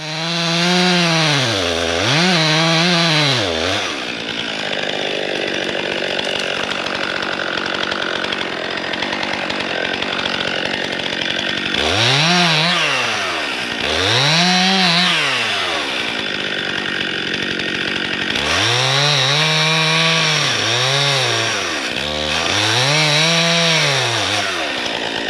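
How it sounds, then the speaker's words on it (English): A chainsaw cutting to fell a yellow birch during tractor logging for a forest road, loud and close, revving up and down in bursts with steady idling stretches between cuts, and no voices. "one to cut there is right by Kim, the yellow birch and the chainsaw."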